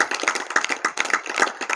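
Audience clapping at a water-conservation talk, a smaller group of distinct, fairly close hand claps in a loose, uneven rhythm, each clap individually audible rather than blending into a wash.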